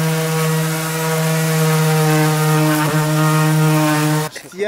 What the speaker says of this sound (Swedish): Ett jävla jobb att slipa,